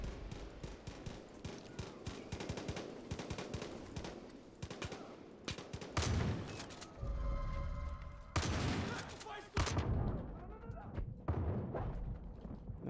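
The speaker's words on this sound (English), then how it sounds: "Someone else shooting at you?" Gunfire in the Far Cry 5 co-op campaign: a dense, continuous fusillade of rapid shots with several heavier booming bursts mixed in, fairly faint overall and sustained throughout.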